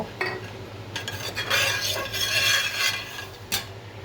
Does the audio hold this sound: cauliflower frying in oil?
yes